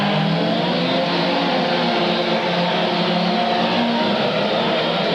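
Off-road race trucks in Grand National Sport Truck action racing at Candlestick Park in 1993, a loud, continuous engine roar from several trucks at once.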